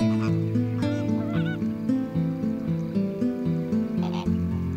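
A flock of flamingos honks and gabbles continuously, many overlapping nasal goose-like calls in an uneven, busy chorus at close range with no talk.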